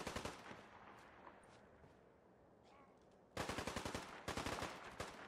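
Automatic gunfire in the video game Fallout 4: faint scattered shots early on, then two loud, rapid machine-gun bursts close by in the second half.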